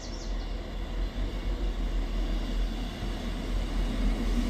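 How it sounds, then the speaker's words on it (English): Scotrail class 158 diesel unit 158717 pulls into Inverkeithing station, a steady low rumble and broadband roar with wheel and engine noise building gradually, fairly close, with no voices over it. "Arriving in now is the 11:28 Scotrail service from Edinburgh Waverley to Leven."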